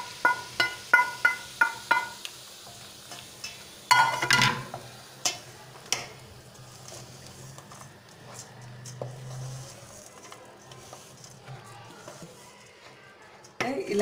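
Fried leftover chapati pieces are stirred together in a pan for laddu. A quick run of sharp clicking taps opens, then scattered scrapes and knocks follow, with a voice faintly in the background.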